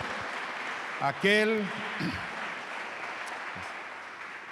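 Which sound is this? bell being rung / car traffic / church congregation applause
church congregation applause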